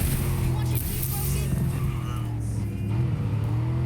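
Car engine running while driving in Cyberpunk 2077, a steady droning hum with sustained tonal harmonics that waver slightly in pitch, loud and continuous throughout.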